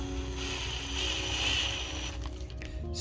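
A 1/2 inch tap is slowly unthreaded from a water pump intake, giving steady close mechanical ratcheting and scraping that runs throughout and thins out near the end.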